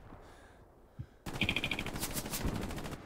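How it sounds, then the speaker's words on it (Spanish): Machine gun fire in the WWII shooter Hell Let Loose: a lone thump, then a loud, sustained rapid burst of automatic fire with crisp repeating cracks. "Uy, tengo un MG delante."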